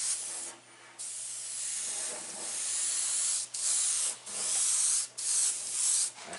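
An airbrush sprays paint across a paper mask in long steady hissing bursts, close and fairly loud, with brief pauses between passes.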